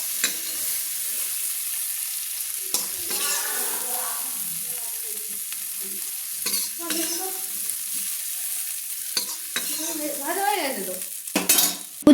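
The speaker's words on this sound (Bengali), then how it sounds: "বন্ধুরা দেখুন আমার চিংড়ি মাছগুলো ভাজা হয়ে গেছে" Prawns frying in a pan for a cabbage-and-prawn dish, a soft continuous sizzle with occasional spoon scrapes and clinks, while someone speaks intermittently over it.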